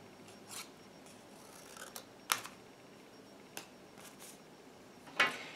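Scissors trimming paper pieces for an art journal page, a few sharp close snips spaced irregularly over quiet room tone.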